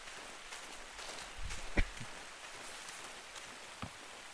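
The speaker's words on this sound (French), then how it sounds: "Ça y est, il pleut." Soft, steady rain patters in a Generation Zero game scene, faint and continuous, with a couple of brief thuds breaking through the hiss.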